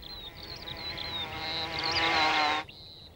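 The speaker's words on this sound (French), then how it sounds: "Les polistes sont une famille de guêpes sociales primitives." Paper wasps (Polistes) buzz close by with a steady, wavering drone that grows louder and then stops abruptly.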